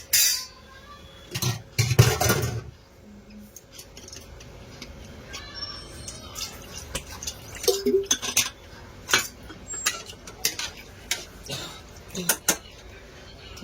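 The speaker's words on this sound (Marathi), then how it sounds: "आता कुकरचं झाकण लावूया." A pressure cooker lid fitted into place over a pot of chicken feet soup, a loud cluster of metal clanks early on, then scattered clicks and knocks.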